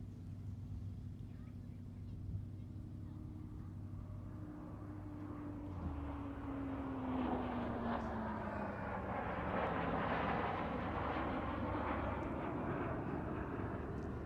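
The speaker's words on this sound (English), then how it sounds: "The pair now moving into echelon right again with the T7 on the right wing of the Canberra." A Canberra bomber and a Hunter T7 jet fly in formation at an airshow, their engines a steady broad roar that swells and broadens midway as the pair pass, with a falling tone sliding through the noise, distant but full.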